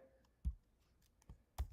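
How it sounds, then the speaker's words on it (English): A few sharp computer mouse clicks, spaced irregularly and close up, with faint small ticks between them in an otherwise quiet room. "I'm going to click Create a Bucket"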